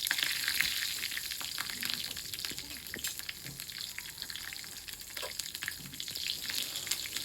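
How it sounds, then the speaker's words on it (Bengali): Nigella seeds, bay leaf and green chili temper in hot oil in a wok, giving a soft, steady crackle and sizzle with scattered small pops throughout. "একটা কড়াই বসিয়ে তাতে কিছুটা পরিমাণ তেল দিয়ে কিছু ফোড়ন দিয়ে দেব"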